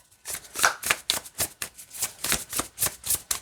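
Tarot cards are riffled and shuffled in a quick run of papery bursts, about a dozen in a steady rhythm, close by with no voices.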